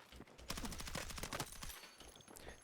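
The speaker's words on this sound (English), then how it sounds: "So basically what you do is press prone key while moving and you shoot." Rapid gunfire bursts from prone dropshotting in Battlefield 6, a run of sharp, closely spaced shots up front, then scattered reports and game ambience, fairly loud with no talk.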